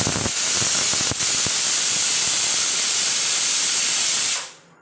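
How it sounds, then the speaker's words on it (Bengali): A pressure cooker cooking soybeans releases a loud, continuous jet of hissing steam close by, holding steady for over four seconds before cutting off abruptly into quiet. "আমি প্রেশার কুকারে সয়াবিন রান্না করছি"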